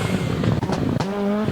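A rally car on stage 11 of the Mecsek Rally, running a long straight into a heavy braking zone: a loud, close engine roar broken by sharp cuts and pops, then a steadier tonal drone as it slows.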